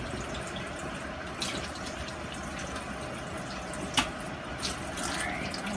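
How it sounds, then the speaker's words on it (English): A spoon washed under a kitchen sink tap, steady running water with small clinks and splashes rising through it, close by. "Washing my spoon here."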